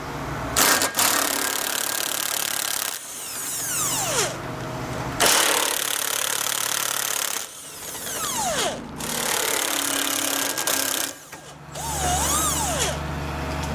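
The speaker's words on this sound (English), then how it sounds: "Now we're just gonna remove the rest of these bolts here, just leaving those two at the very back here on the edge in place." A power tool removing trailer hitch bolts on a 2011 Chevrolet Express van, running in several loud bursts of whirring and rattling with short pauses between them and pitch sweeping as it spins down, and no talking.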